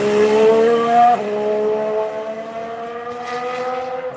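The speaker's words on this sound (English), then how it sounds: "Here comes the Ferrari." Ferrari race car on a circuit, its engine a loud sustained whine that drops in pitch partway through as it passes, staying prominent until the end with no voices.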